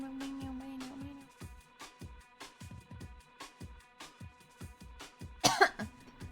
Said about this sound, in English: Sorry, I had to cough.